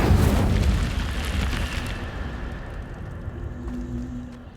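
An Incendio fire spell cast in Hogwarts Legacy bursts out as a loud, whooshing fiery blast that swells at once and then rumbles and fades over a few seconds, with no talking.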